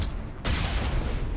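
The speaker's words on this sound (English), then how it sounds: "It looks like we missed with our main cannon." A main cannon fires in the video game Mass Effect: a sudden loud blast hits partway through and rolls on as a sustained, dense roar to the end.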